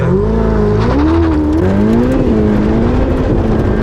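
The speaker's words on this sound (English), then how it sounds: "hearing how the engine is revving, feeling the traction that I'm getting" Car engine revving hard and climbing in pitch through a manual launch start off the line, loud and close, with a rough throaty tone and tyre noise, no talking.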